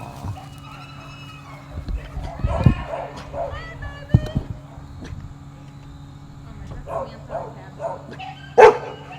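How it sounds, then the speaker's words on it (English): Dogs at an animal shelter kennel bark in a few short, separate bursts, with the loudest yap near the end, over a steady low hum and a person speaking quietly nearby. "You do too much barking."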